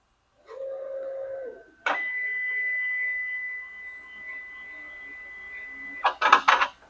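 A Ricoh Ri 4000 direct-to-garment printer draws a jeans platen inside, giving a low motor whir, then a sustained higher mechanical hum with a steady tone, ending in a burst of clicks and clatter, close and fairly loud.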